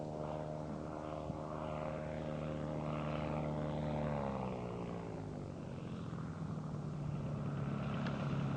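A propeller-driven fixed-wing aircraft flies in for a downwind landing, its engine drone steady and fairly loud throughout, with the pitch sliding lower midway as it passes, alone without voices.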